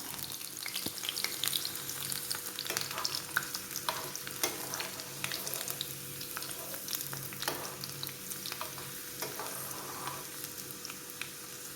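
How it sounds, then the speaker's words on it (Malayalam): Garlic fries in hot oil in a pan for a vegetable kichadi, a continuous bubbling sizzle with scattered crackles and the scrape of stirring, close and steady throughout. "ഉള്ളിയും വറുത്ത് കൊരിയിട്ടു ഇനി ഞാൻ വെളുത്തുള്ളിയാണ് ഇട്ടിരിക്കുന്നത് അതും നമുക്ക് കൊരിയെടുക്കാം"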